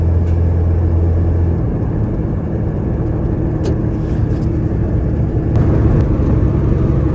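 A 1979 Chevy C-10 pickup engine drones while driving, a loud low rumble with road noise that stays steady throughout, with a couple of brief rattles.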